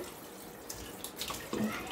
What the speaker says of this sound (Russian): Наполняем теперь чистую воду холодную